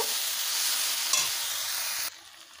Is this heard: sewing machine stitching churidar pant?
no